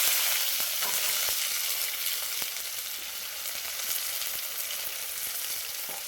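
Ginger paste, chopped tomato and cumin paste with ground cumin and coriander frying in hot oil for a fish curry, a steady close sizzle with faint stirring scrapes running throughout.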